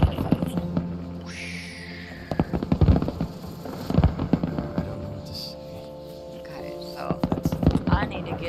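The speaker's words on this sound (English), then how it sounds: "so then I can see the beautiful fireworks" Fireworks in the video game Stray Souls burst as a string of crackling pops and bangs over a steady bed of game background sound, moderately loud and clustered in irregular bursts.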